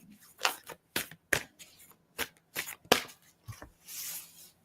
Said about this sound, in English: I'm just going to shuffle a little bit here.